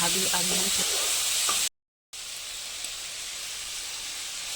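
Onion, capsicum and tomato sauté in a pan with a steady, close hiss and sizzle that cuts out for a moment and then carries on, with faint bits of voice near the start.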